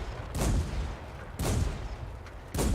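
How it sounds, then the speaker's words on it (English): Three loud, booming tank gun shots from World of Tanks, fired from a B2 tank in an online battle, spaced about a second apart, each with a sharp blast and a rumbling tail. "I'm shooting there in the air in a sign of victory."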